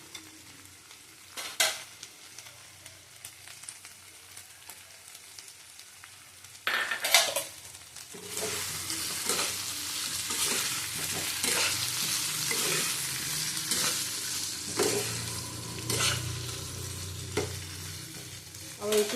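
Whole chana dal frying in a pan, stirred now and then, with a low steady sizzle that grows louder midway and sharp scrapes and clinks of a spoon against the pan; no one talks.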